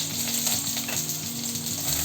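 Okra frying in a pan with mustard paste gives a loud, continuous sizzle with a dense hiss, close up and without any talk.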